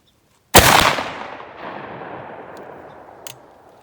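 A single loud 12 gauge shotgun blast firing a Fury slug at an outdoor range, a sharp crack followed by a long decaying echo.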